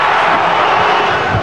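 Basketball arena crowd roaring and cheering during a LeBron James versus Dwyane Wade game, a dense continuous wash of voices that stays loud and steady throughout.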